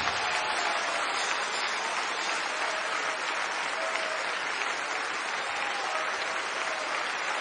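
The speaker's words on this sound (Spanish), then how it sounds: "¡Oh, denle un aplauso de veras!" A church congregation applauds steadily and loudly, a dense continuous wash of clapping from many hands that holds for the whole stretch without letting up.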